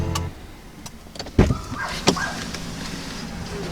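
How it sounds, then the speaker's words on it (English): Power seat motor in a 2019 Acura TLX whirring briefly as the seat slides back, with a couple of soft thumps and quiet cabin ambience around it. "The seat does move back to help with easier exit."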